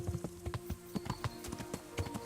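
Horse hooves clip-clop on a forest road in a video game, a steady rhythmic run of close, fairly loud hoofbeats with no one speaking.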